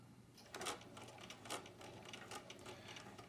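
A sewing machine runs a back stitch on sheer silk organza or chiffon with a regular straight stitch, giving a faint, quick mechanical whirring with a few louder bursts, heard alone at low level.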